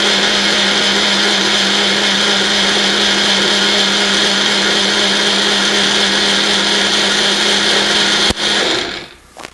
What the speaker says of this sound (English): put it in, and you'll see that it works more like a blender.